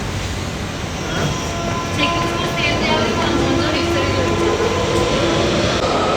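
A DLR light rail train in London runs steadily with a continuous rumble and squeal of wheels, while voices speak faintly over the noise.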